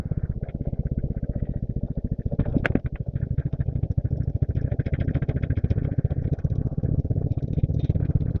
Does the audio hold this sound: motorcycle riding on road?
yes